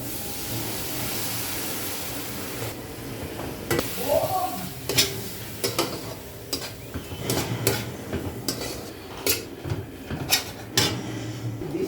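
Chicken frying in a pan sizzles softly while a utensil scrapes and stirs, giving intermittent clacks and scrapes over a low, steady hiss of cooking.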